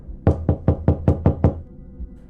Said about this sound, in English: Just then I got a knock at my door.